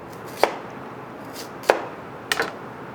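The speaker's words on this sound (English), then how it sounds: "And I'm going to show you how to just slice a few." Three crisp knife cuts through dried Jerusalem artichokes, slicing them to medium thickness, each a sharp isolated chop spaced about a second apart on a quiet background.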